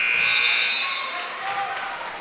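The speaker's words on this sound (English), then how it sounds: "At the buzzer" At a varsity basketball game between Swain and Franklin, the end-of-quarter buzzer blares loud and steady for about a second, then fades under ongoing crowd noise in the gym.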